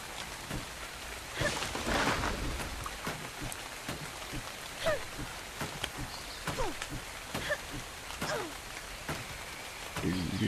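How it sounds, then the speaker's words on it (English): Rain in the Dark and Light video game, a steady soft patter of drops with scattered louder splashes, fairly quiet and continuous throughout. "And now it's raining."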